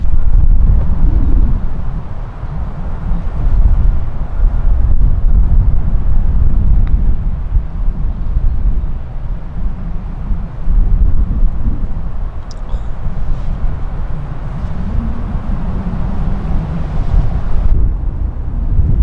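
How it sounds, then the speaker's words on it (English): Strong gusty wind roars across an open golf course during a professional tournament, a continuous loud low buffeting rush against the microphone that swells and eases throughout, with no talking. "how hard the wind is blowing out here"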